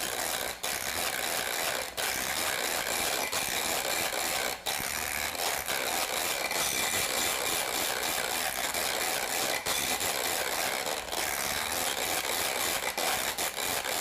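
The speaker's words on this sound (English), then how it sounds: "And then you're just going to mix the hell out of it. And you're going to crank it up to high." An electric mixer runs on high while it whips coconut cream, giving a steady, dense whirring and rattling that stays at an even volume the whole time, with no voices over it.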